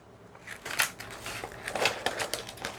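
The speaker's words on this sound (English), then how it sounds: "just kind of cut one of these out" Scissors cutting a DTF transfer sheet up close, a faint run of crisp snips and crinkly rustles at an uneven rhythm.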